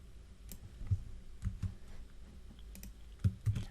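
Light typing on a computer keyboard, a sparse run of soft clicks and occasional louder key taps at an irregular pace, close and fairly quiet.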